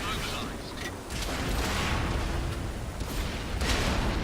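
Shells striking and glancing off a Matilda tank in World of Tanks, heard as dense bursts of impacts and blasts with gunfire-like cracks over a continuous rumbling battle din, with a voice speaking over it.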